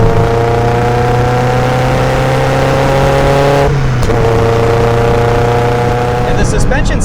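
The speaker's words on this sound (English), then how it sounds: "Max header paired to an OBX mid-pipe with a high-flow cat in it, and everything goes right out the back of a Roadster Sport 2 muffler" Mazda NC Miata with a Max header, OBX mid-pipe, high-flow cat and Roadster Sport 2 muffler, engine droning loud and steady close by, pitch holding then dropping slightly as revs fall.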